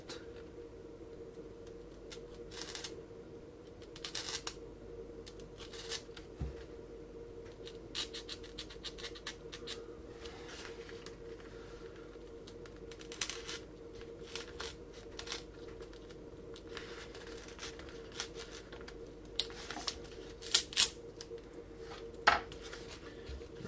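A hobby knife cuts foam material for a TBS Caipirinha FPV wing, giving quiet, sporadic scratchy slicing strokes and small clicks over a low steady hum, with no voices.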